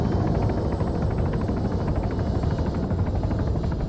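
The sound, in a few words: helicopter flying in video game Arma 3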